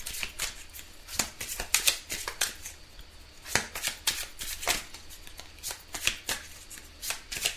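Romantic tarot cards being shuffled by hand in a quiet room, a steady run of crisp, close riffling flicks and soft card slaps repeating irregularly for several seconds with no talking.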